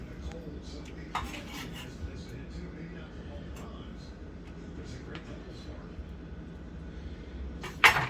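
Smoked sausage and ground beef are stirred into a simmering spaghetti pot with a utensil, giving soft scrapes and occasional clinks against the metal over a steady low background, ending in a louder clank.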